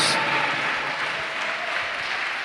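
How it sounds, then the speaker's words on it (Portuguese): A church congregation applauds during a worship service, a broad wash of many hands clapping that starts full and then eases slightly, with a faint voice underneath. "Vamos aplaudir o Senhor."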